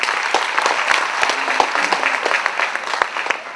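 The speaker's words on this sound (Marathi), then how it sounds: "टाळ्या वाजवाव्या." An audience at a school event breaks into sustained, loud applause, a dense wash of many hands clapping with a few sharper individual claps standing out, continuing without pause.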